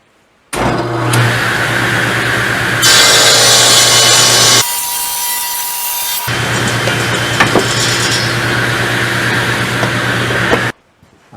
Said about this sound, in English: I'm going to cut the maple board into 3 strips, glue them together for the neck